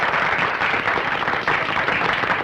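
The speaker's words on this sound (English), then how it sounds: "They're applauding." A studio audience applauds in an old radio drama, a steady dense wash of clapping that holds evenly throughout with no voices over it.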